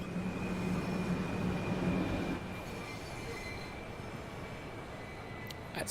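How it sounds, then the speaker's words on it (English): A train in the railway simulator game Train Sim World 2 rolls past with steady, loud rumbling wheels and a sustained squeal that drops to a quieter, continuous rolling noise partway through. "I'm getting crossed by a train."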